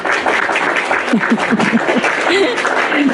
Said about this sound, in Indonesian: tepuk tangan buat Rahmat yang cakep dan manis